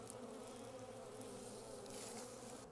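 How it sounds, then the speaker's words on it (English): Honey bees in a hive's medium top box, clustered densely, give off a soft, continuous buzzing hum, steady and faint with no voices. "Nice cluster of bees, and that's in the top box, a medium on top."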